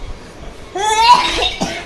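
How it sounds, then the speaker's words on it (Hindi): A child gives a short burst of coughing midway, a few quick harsh bursts close by after a quiet start, with faint indoor background. "खांसी हो गया"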